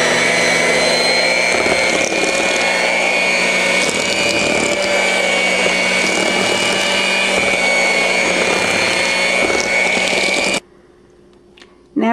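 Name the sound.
mixing eggs, vanilla and sugar mixture for brownies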